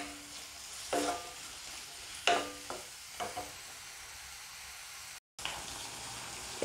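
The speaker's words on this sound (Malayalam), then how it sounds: "പിന്നെ ഇഞ്ചിയും വെളുത്തുള്ളിയും അരിഞ്ഞു വെച്ചത്, പിന്നെ പച്ചമുളക്. അപ്പോൾ ഇതെല്ലാം കൂടി ഒന്ന് വഴറ്റിയെടുക്കണം." Chopped ginger, garlic and green chili sautéing in a pan for a potato curry, giving a soft steady sizzle with a few louder stirring scrapes and one brief dropout near the end.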